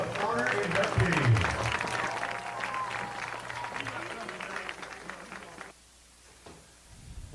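A stadium crowd at a Henderson State college football game applauds the 2025 Hall of Honor inductees, broad applause mixed with an announcer's voice over the PA, fading into a quieter lull near the end.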